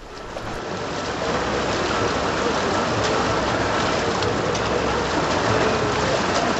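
Fast-flowing Ganga river water rushes past bathers at barricades in Uttarakhand, a dense, steady hiss and roar that swells slightly at first and then holds loud and unbroken throughout.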